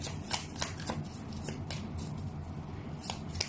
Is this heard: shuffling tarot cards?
yes